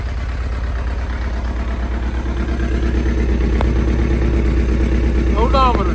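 A 2008 Suzuki Hayabusa motorcycle engine idling after 14 years of sitting, a steady low, throbbing rumble close by that holds evenly throughout, with a brief faint clink and a short whistle-like sound near the end.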